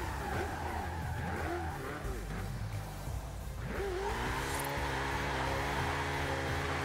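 A Ferrari F8 Tributo in Forza Horizon 5 launches with wheelspin, a sustained tire squeal over a loud revving engine, pitch climbing steadily as it accelerates away.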